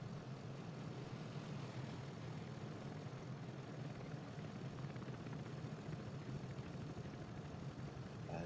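Helicopter flying in the city-building video game Workers & Resources: Soviet Republic, a steady low rotor and engine drone that stays constant and moderately faint throughout, with no talking.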